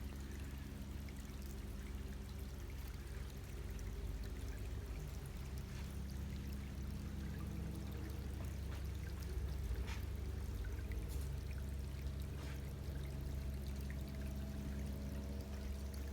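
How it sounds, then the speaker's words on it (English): Water trickling out of the ground from a natural freshwater spring near a fallen tree in the woods around Ormond Beach, a steady, soft babbling flow that carries on without a break and with no talk. "it seems as if there's water trickling right here out of the ground. A natural freshwater spring."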